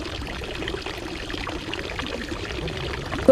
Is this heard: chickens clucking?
no